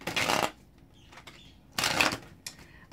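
Tarot cards being shuffled by hand: two separate riffling bursts of papery flutter, close and moderately loud, with a quiet gap between them.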